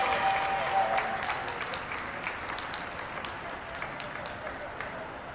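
A crowd at a college basketball game between California (PA) and Edinboro applauds a senior player being introduced, with a broad, steady wash of clapping and cheering that fades slightly over a few seconds.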